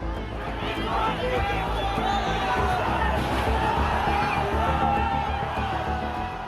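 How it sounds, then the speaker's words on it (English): A large crowd of Gen Z protesters in Nepal surges toward Parliament, a dense roar of shouting and cheering voices with scattered whoops, sustained and fairly loud throughout. "And the crowd surges towards Parliament."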